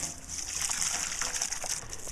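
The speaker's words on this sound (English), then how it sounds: "Pumping water out, which is working great." Steady rushing and splashing water from a bilge pump pumping water out, a continuous gushing flow close by with no talking.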